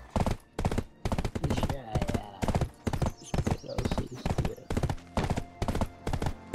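Horse hooves clip-clop in the Black Desert game, a loud, regular run of hoofbeats that carries through the whole stretch.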